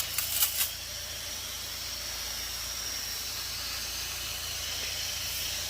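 A carpet sprayer pre-sprays carpet after vacuuming: a steady, broad hiss of spray runs continuously at moderate level, with a few brief clicks at the start.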